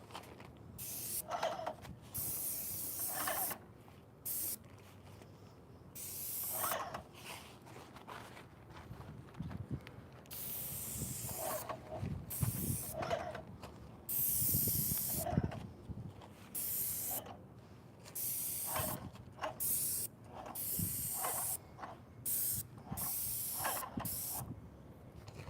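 A spray gun lays a first coat of finish onto a wooden desk in a workshop, bursts of loud close hissing that stop and start repeatedly, with faint creaks and footsteps between passes.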